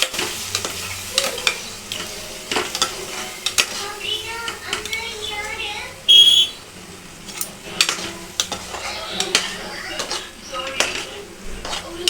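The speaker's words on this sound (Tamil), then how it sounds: "இதையும் போட்டு நல்லா கொஞ்சம் வதக்கிக்கணும்" Spoon scraping and stirring prawn curry in a pan with a soft sizzle underneath, repeated clinks and scrapes at an uneven pace, close by.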